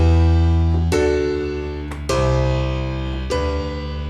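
An electronic chord progression over a low D bass note: loud, full synth chords that change four times, each sustaining heavily with a deep bass underneath. No voices.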